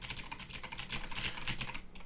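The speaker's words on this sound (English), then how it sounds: "Here I am, just pressing the keys in the background." Clicky mechanical keyboard switches are pressed in quick, steady succession, a rapid run of sharp, close taps with no talking.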